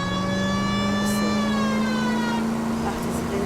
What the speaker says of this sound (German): die Sirene nervt auch.